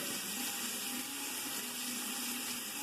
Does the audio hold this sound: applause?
no